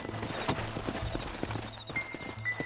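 Horses clip-clop in the video game Red Dead Redemption, with steady, fairly quiet hoofbeats at a walking pace over a soft ambient background and no speech.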